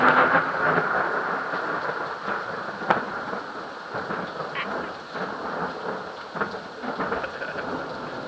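Thunder rumbling through a storm with steady rain, a continuous broad roar with a sharper crack near the three-second mark and softer swells after it.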